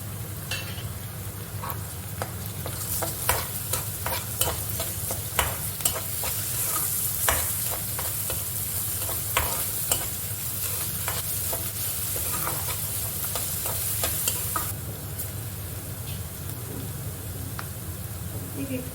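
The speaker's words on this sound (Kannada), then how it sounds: "ಜಜ್ಜಿಟ್ಕೊಂಡಿರೋ ಬೆಳ್ಳುಳ್ಳಿ ಮತ್ತು ಶುಂಠಿ ಇವುಗಳು ಹಾಕಿ ಇದನ್ನು ಸ್ವಲ್ಪ ಚೆನ್ನಾಗಿ ಫ್ರೈ ಮಾಡೋಣ" Crushed garlic and ginger frying in a pan for egg fried rice, a continuous close sizzle with repeated spatula scrapes and stirring clicks throughout.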